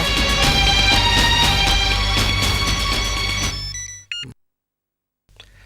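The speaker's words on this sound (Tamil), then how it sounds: "ஃபோன் அடிக்குது, எடுங்க." A telephone ringtone plays loudly and continuously, a bright repeating melodic ring that stops abruptly, followed by a brief electronic blip and then near silence.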